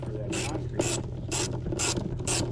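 A ratchet on an extension socket clicks in five evenly spaced, loud bursts at close range while working under the hood of a Chevrolet Tahoe during a mass airflow sensor replacement.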